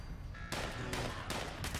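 Gunfire in the video game Fallout 76: several broadband bursts of shots with a sustained, rumbling fusillade texture, loud and continuous over a noisy background.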